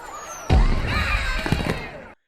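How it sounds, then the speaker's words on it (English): A cartoon minion fires a rocket launcher: a sudden loud low blast at about half a second, then a sustained roaring, crackling rush with a few more thumps before it cuts off abruptly. "One minion gets way too excited with his rocket launcher."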